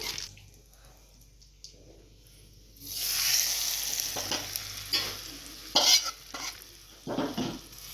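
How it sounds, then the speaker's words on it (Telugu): A tempering of cumin and curry leaves for drumstick chutney starts quietly, then erupts into a loud, close sizzle partway through, followed by several sharp stirring and scraping hits while the crackle continues. "ఇప్పుడు తాలింపు వేయగానే మనం రెడీ చేసుకొని పెట్టుకున్న పచ్చళ్ళలో పోసుకుందాము"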